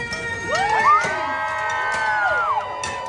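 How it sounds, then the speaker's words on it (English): Audience at Disneyland screaming and cheering loudly at a show, a sustained burst of many high voices shrieking and whooping together. "the louder you scream, the faster they cook. Let me hear you scream!"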